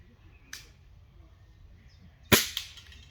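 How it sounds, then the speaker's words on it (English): A recoiling air rifle fired at the UKAHFT National Recoiling field target championship: a faint snap early on, then one sharp, close crack with a quick smaller report just after, over quiet outdoor background. "Good shot, Gary."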